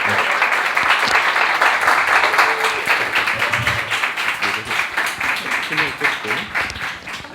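An indoor church worship audience gives a sustained round of applause, dense clapping from many people that gradually thins toward the end, with some voices mixed in underneath.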